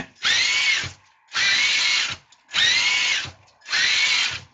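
Traxxas TRX4 RC truck's electric motor run flat out in first gear, four loud sustained high-pitched whining bursts of about a second each, separated by short pauses, with no talk.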